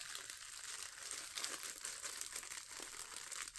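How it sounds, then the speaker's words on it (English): Crinkly packaging handled up close, giving a continuous soft rustling and crinkling with no talk. "we got something crinkly in here"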